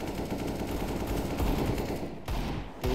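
Rapid gunfire in Counter-Strike: Global Offensive, loud bursts of automatic shots that crackle in quick succession, with short gaps between some volleys.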